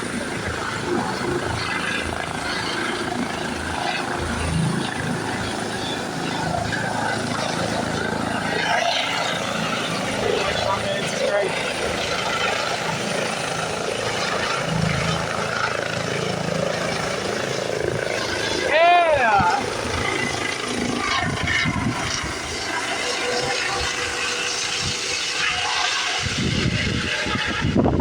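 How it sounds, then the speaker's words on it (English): A helicopter lifting off at a hospital helipad in Gary, Indiana, with a steady loud rotor and engine roar that holds for the whole stretch, heard from nearby as a broad continuous wash. "That was a helicopter taking off at Methodist Hospital in Gary,"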